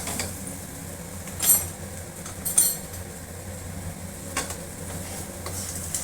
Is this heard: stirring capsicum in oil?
yes